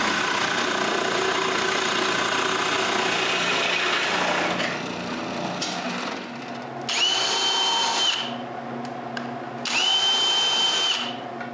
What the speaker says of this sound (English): I move the stop to the other side and drill the remaining holes.